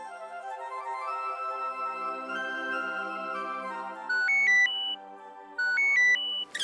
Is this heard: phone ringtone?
yes